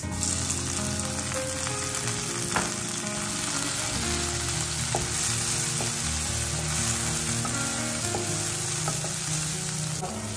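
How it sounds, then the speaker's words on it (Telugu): Food fries in a pan until golden brown for a sprouts fry, a dense continuous sizzle punctuated by occasional light clinks of stirring, with no talking. "సో కొంచెం గోల్డెన్ బ్రౌన్ వచ్చే వరకు వేయించుకుందాము"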